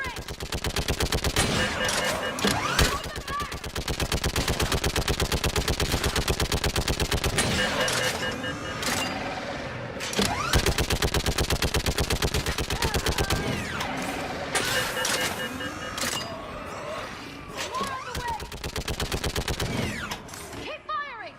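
Rapid sustained bursts from a mounted gun in the video game Mass Effect 3, loud and close with a fast mechanical rattle, brief pauses between long volleys and shouted voices faintly under the gunfire.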